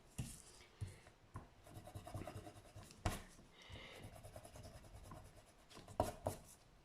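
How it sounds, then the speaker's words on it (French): Pencil lines being erased with an eraser on paper, soft close scratchy rubbing in short irregular bursts with a few light taps. "moi je vais gommer tout ça"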